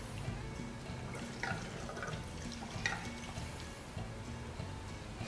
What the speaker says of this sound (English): Pour some in there.